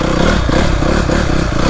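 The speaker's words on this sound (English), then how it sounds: "you can hear modulating that throttle" Dirt bike engine running loud and close in first gear as the rider modulates the throttle, a gritty rumbling drone with slight surges and mechanical clatter, no talk over it.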